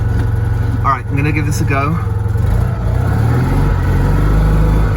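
Citroen 2CV engine with a single-barrel carburetor idling after carburetor work, a steady low drone close by, with someone speaking briefly over it.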